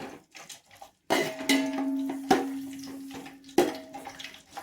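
Chopped onions are tipped into a pan of frying spices for mushroom biryani, with sharp metallic clanks of a utensil against the pan over a soft sizzle, close by and without speech.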